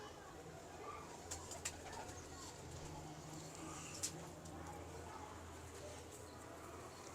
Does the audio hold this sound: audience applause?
no